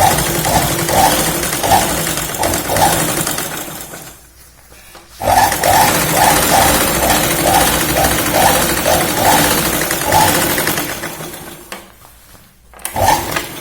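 A sewing machine stitches a salwar pant bottom in fast rhythmic bursts of whirring needle clatter, stopping briefly twice before starting again, loud and close.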